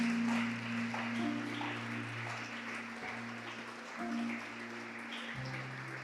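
A church congregation claps during a sermon service, a sustained wash of many hands clapping over a low musical hum, fading slightly toward the end.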